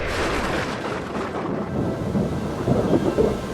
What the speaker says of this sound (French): un grondement de tonnerre se faisait entendre